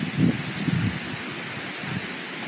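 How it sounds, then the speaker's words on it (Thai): Strong wind at a mountain campsite roars as a broad, steady rush with low gusty buffeting on the microphone at the start, close and continuous. "ลมแรงมากครับดูดิมาจากเสียงลม"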